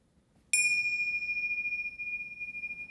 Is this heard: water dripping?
no